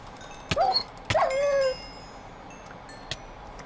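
A dog in a Minecraft-style video game gives two short whimpering yelps in close succession, followed later by a faint brief click, with no talking.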